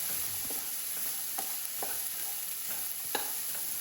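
Chopped carrots and beans sizzle softly in a pan while a utensil stirs them, giving faint scrapes and light taps against a steady, quiet frying hiss.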